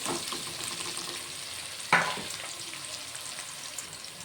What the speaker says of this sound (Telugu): కొంచెం ఫ్రై అవ్వాలి.